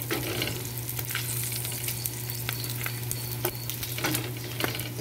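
Potatoes fry in bacon fat with a dense, steady sizzle, broken by occasional scraping stirs against the pan over a low constant hum, close up and without voices.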